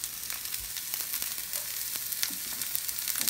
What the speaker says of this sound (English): I pre-prepared a little bit of onion and garlic, and a little oil in a hot cast iron pan, and we'll just start to sear those off